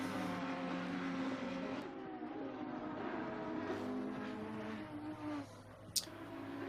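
Race car engines droning continuously in Assetto Corsa Competizione at the Nürburgring GP, with a Ferrari and an Audi among the cars, holding a steady sustained roar and a brief sharp blip near the end.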